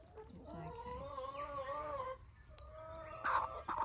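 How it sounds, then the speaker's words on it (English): Chickens of mixed ages cluck and chatter up close, with rising and falling calls overlapping over a few seconds and a sharper squawk near the end. "You can tell which ones are the older chickens and which are the younger chickens."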